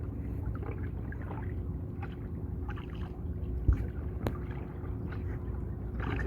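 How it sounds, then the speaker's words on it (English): Kayak paddles dip gently into very calm water, soft faint swishes and drips recurring in an unhurried rhythm over light wind hiss, with no talking. "You can probably hear just the sound of the paddles in the water."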